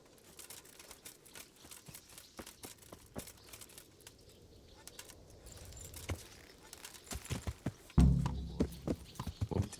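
Rhythmic clip-clop of horse hooves trotting in a video game, with jingling tack, growing louder and closer toward the end.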